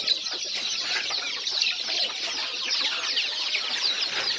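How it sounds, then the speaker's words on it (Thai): A flock of chickens clucks continuously, with many overlapping close-range calls forming a busy, steady chatter. "นี่ไก่ไงลูก"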